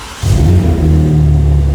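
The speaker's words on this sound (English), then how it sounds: "We can actually test it out and we'll hear the exhaust." A BMW M3 G80 fitted with a valvetronic exhaust fires up by remote start, a loud close rumble that settles into a steady, deep idle burble.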